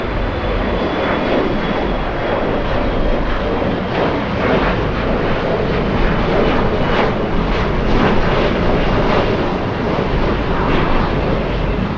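An Air Premia jet from South Korea landing at LAX makes a loud, sustained engine roar that carries the whole stretch with no voices.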